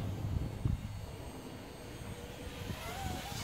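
A JunCheng mini quadcopter drone flies outdoors in wind, its faint high motor whine rising and falling over a steady rumble of wind buffeting the microphone.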